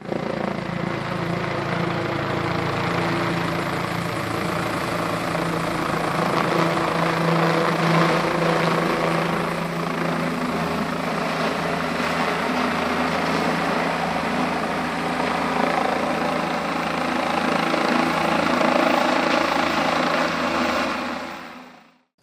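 A helicopter carrying a tranquilized animal in a park drones steadily close by for over twenty seconds, its rotor and engine forming a thick continuous roar that fades out at the end.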